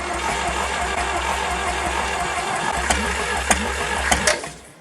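A John Deere 1010 crawler tractor engine runs steadily at a low, even idle during its first start after long disuse. A few sharp knocks or clanks cut in near the end before the sound drops away.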